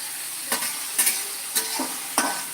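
A potato mixture with salt sautéing in a pan, a low sizzle under four evenly spaced scraping strokes of a spoon stirring against the metal.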